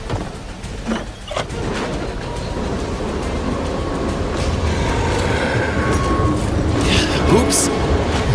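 A video game train rolls along with a steady rumble and clattering mechanical rattle, growing slightly louder and busier toward the end.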